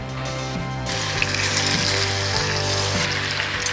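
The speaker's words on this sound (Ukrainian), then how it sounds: "І як тільки олія нагрілась гарно, починаємо смажити курку." Chicken pieces frying in a generous amount of hot sunflower oil in a large pan, a steady broadband sizzle with soft crackles and pops running throughout at close range, no voices.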